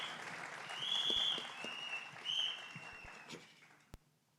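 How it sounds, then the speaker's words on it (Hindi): Audience applause at a song launch event, a moderate crowd clapping that swells twice and then thins out, with a few scattered claps and a sharp knock near the end, no talking over it. "एक बार जोरदार तालियां हो जाएं सबके लिए"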